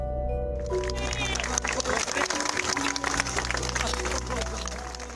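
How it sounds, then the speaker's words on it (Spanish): At a funeral, mourners applaud and shout, loud clapping and crowd voices swelling together, with a brass band playing beneath and a voice speaking over the scene. "Con aplausos, música de banda y gritos de justicia, fue despedido Juan José Hernández."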